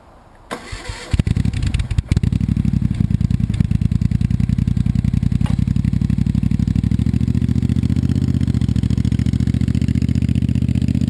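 A Moto Guzzi motorcycle with its exhaust pipe held on by wire is started after a few cranks, then settles into a loud, steady close-up idle with rapid even firing pulses and no voices.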